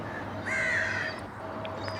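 White crows in Dubai cawing: a nearby drawn-out caw rises over steady outdoor background noise, followed by fainter calls, with no talking.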